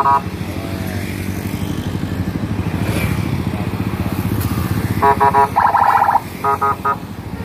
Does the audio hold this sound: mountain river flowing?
no